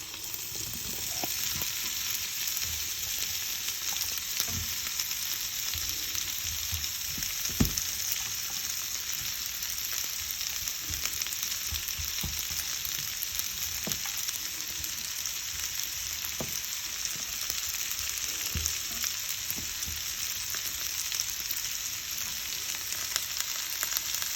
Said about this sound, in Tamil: லைட்டாக வதக்குனா போதும். அப்புறம் கேரட்டு போடுங்க.